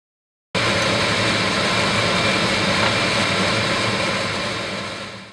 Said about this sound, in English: use the air blower to blow out the hydrogen bromide smoke in the funnel